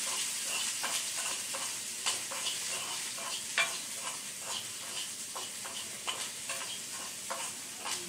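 Steady sizzle of food frying in a pan, with repeated scraping clicks of a spatula stirring at an irregular pace, close up.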